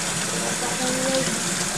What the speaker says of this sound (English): Pour cold water into it